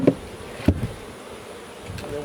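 Honey bees hum low and steady around hive frames during a honey harvest, with a couple of close knocks or clunks at the start and no talking.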